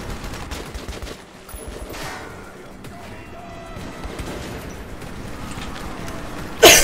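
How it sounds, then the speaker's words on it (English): AK rifle and shotgun gunfire in the post-apocalyptic shooter Metro 2033, a steady clatter of shots with a loud blast at the end, mixed with faint game noise. "Like my AK, have a bit of shotgun."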